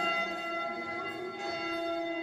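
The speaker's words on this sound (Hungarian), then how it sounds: "Na, meghúztuk a harangot, hogy jöjjön a nagyhal." A church bell rung by visitors at Lake Bled, Slovenia, rings out with a sustained, shimmering metallic tone that hangs steadily throughout, fairly close and alone without talk.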